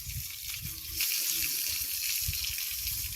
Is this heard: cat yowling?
no